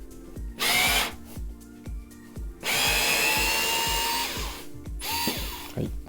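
A Bosch GO3 or Vessel electric screwdriver loosening a screw. It gives short whirring bursts with ratcheting clicks, then a longer sustained whine that slows and stops. The sound is loud, close and alone, with no talk.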